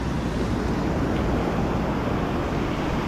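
Ocean waves washing onto the beach at Cape San Blas, out near the point: a continuous close surf wash mixed with gusty wind buffeting, with no voices.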